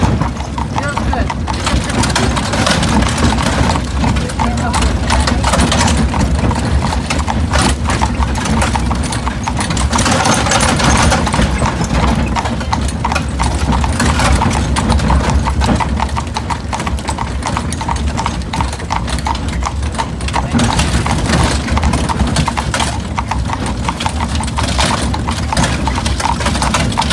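Horse-drawn carriage rolling through Williamsburg, with steady hooves clip-clopping up close in a continuous loud rhythm, accompanied by wheel and street rumble while people talk throughout.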